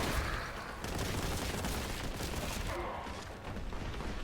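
Rapid, dense gunfire from the Warhammer 40K boomer shooter Boltgun, continuous volleys of shots and booms filling the whole stretch at a steady, busy pace.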